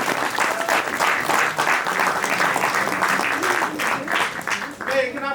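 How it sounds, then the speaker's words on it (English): An audience applauds loudly and steadily for the whole stretch, with a voice speaking over the clapping. "I also want to give a round of applause to the first Haitian councilman of East Orange"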